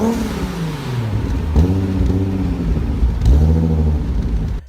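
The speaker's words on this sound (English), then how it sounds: "Here's the sound of a twin turbo Supra." Twin-turbo Toyota Supra engine blipped a couple of times, deep rumbling idle jumping into short rising revs, loud and near with no speech.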